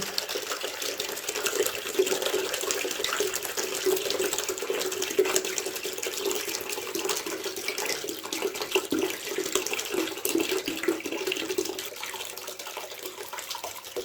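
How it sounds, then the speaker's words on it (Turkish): Black water drains from a central heating radiator into a basin as a steady, close rushing splash that holds fairly level and softens slightly toward the end, with no voices. "Aha su geldi. Sırf siyah su geliyor."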